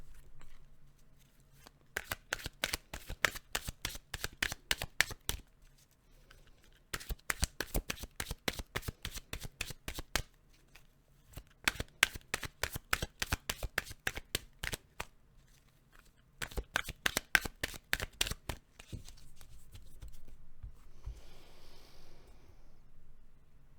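Tarot cards riffled and shuffled by hand in repeated bursts of rapid crisp flutters, four long runs separated by short pauses, close and clear with no talking.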